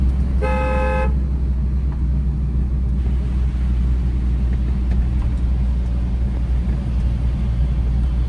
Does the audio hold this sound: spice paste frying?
no